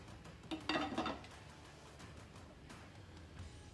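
A crock pot lid is set down on a slow cooker holding a turkey, giving one brief, soft clatter of lid against pot in an otherwise quiet kitchen.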